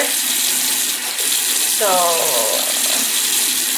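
Water runs steadily from a sink tap over a brush being rinsed on a silicone cleaning mat, a constant close gush while someone speaks briefly over it.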